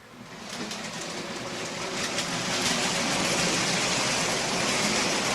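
An OO gauge Bachmann Precedent model locomotive pulling three coaches on a flat layout runs continuously with a whirring motor and light rhythmic rail clatter, growing steadily louder as it approaches.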